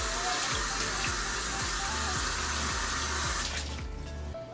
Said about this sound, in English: And then let me rinse this off.